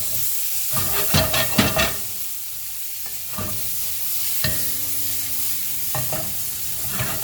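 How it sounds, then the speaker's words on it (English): Chives and sage sizzle steadily in browned butter in a pan for gnocchi, with a few sharp stirring scrapes near the start and occasional clinks over the continuous hiss; no one speaks. "Chives, sage in. Sage and browned butter are fabulous together"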